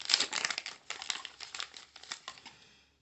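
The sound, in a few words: peeling tape off a Nextbase dashcam package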